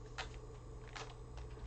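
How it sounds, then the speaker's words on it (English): A small oracle card deck is shuffled in a few quick, soft riffling bursts, close up and fairly quiet, with no talking. "let me just do a little shuffle of the deck"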